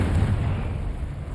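A Confringo spell blast in Hogwarts Legacy goes off as a deep, rumbling explosion, a sustained low boom that fills the clip and fades only slightly across its length.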